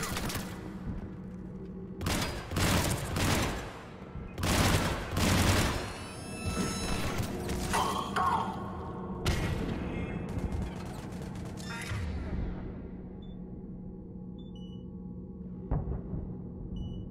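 Gunfire in the Mass Effect Legendary Edition video game: several loud bursts of shots and booms come in clusters with brief pauses, over a continuous battle-noise background, with voices speaking at points.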